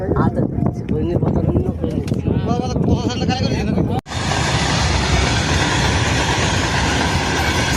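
A train rumbles past the Jhalda railway level crossing, a loud, close, continuous roar with rhythmic wheel clatter that shifts into a steady broadband rush, while people talk over it.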